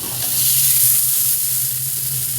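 A flat iron steak sizzles steadily on a hot grill after being flipped, a loud, even hiss with a bright crackle that holds with no break and no voices.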